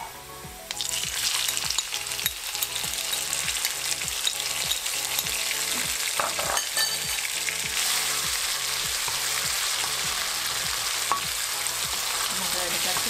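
Tomatoes hiss and crackle in a hot pan for savory namkeen rice, a steady close sizzle with some scraping, continuing for several seconds behind a rhythmic low background beat, with no talking.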